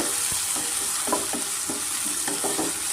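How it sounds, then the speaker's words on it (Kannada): Mushrooms frying in a pan over a medium flame, a steady close sizzle broken by several soft scraping stirs as the pieces get pressed and turned. "ನಾನು ಮೀಡಿಯಮ್ ಫ್ಲೇಮಲ್ಲಿ ನೋಡಿ ಮಶ್ರೂಮ್ ನೀಟಾಗಿ ಚೆನ್ನಾಗಿ ಫ್ರೈ ಆಗಿದೆ"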